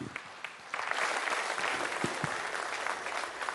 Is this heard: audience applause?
yes